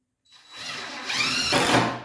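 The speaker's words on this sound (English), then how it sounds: "And put your screws in, kind of get them" A cordless power drill drives a screw into a wooden raised garden bed brace, one short close whirring burst that ramps up in pitch and strains as the screw seats.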